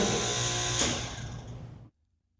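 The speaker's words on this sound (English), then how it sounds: "The second application is the startup of a standard single-phase 7-horsepower compressor without" A standard single-phase 7-horsepower compressor starting up without a soft-start kit gives a loud, steady mechanical hum with a brief surge near the middle, then cuts off abruptly to silence.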